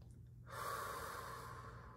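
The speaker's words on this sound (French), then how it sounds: "Donc, on va respirer." A single slow, deep breath during a guided meditation, heard as a soft, close inhalation rising after half a second of near silence and held steady for about a second and a half.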